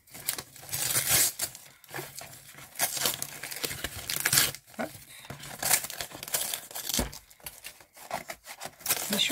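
Gift-wrapped packages of Belgian chocolates being unwrapped by hand, with close crinkling and tearing of paper in irregular bursts, no talking.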